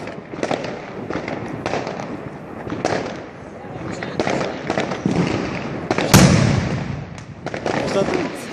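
Cobra 6 firecrackers crackle and pop in repeated bursts at a distance during New Year's fireworks, with one sharp louder bang partway through and people talking faintly in between.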